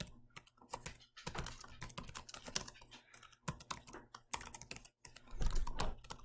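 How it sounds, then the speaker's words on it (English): Rapid typing on a computer keyboard, quiet and close, with irregular bursts of clicking keystrokes and brief pauses, no voices. "See if I can continue typing in there."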